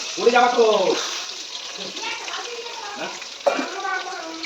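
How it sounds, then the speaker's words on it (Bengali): Onions fry in a pan as part of a home chicken recipe, giving a steady soft sizzling hiss that runs underneath a person talking throughout. "পেঁয়াজগুলো ভেজে নেব।"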